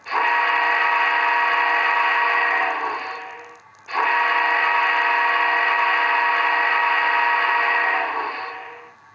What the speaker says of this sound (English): Whistle sounds awesome.